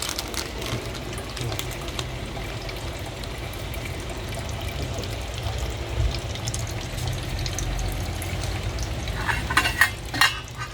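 A pot bubbles and simmers steadily in a constant wash of noise, with occasional clinks and stirring sounds near the end, no talking.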